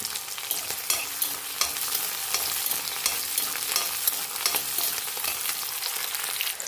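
Four garlic cloves frying alongside small onions in a hot pan, with a busy close crackle of oil and frequent quick spatula scrapes and taps running steadily throughout.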